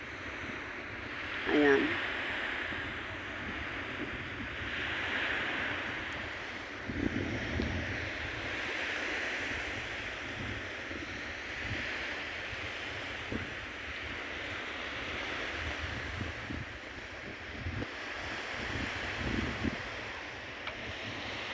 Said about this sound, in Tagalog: papakita ko sa inyo ang alon